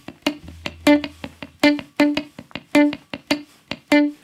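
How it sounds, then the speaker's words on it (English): Funk guitar popcorn picking: crisp single notes with palm-muted scratch strokes in a steady, bouncy rhythm, about a dozen short plucks played alone and close. "we're going to be doing what's called popcorn picking"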